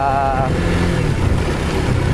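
A motorcycle engine runs steadily and loudly close by, a constant rumble with a brief higher tone at the start, heard alone without talk.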